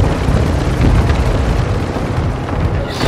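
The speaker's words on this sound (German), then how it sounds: "Frachtheli ist im Anflug." A cargo helicopter approaches in Call of Duty: Modern Warfare II, a steady, loud rotor roar mixed with booming game effects and continuous rumbling, with no clear talk over it.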